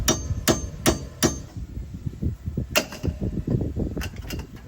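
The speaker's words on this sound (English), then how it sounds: "I'm gonna try and hammer in there" Sharp metallic hammer strikes ring out as an extractor socket is driven onto a nut on a Lexus SC300, four quick blows, a pause, then another flurry of hits, close and alone without voices.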